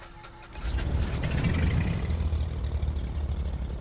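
The left piston engine of a Milviz Cessna 310R in Microsoft Flight Simulator turns over and catches, rising within a second to a loud, steady rumbling idle that carries on to the end.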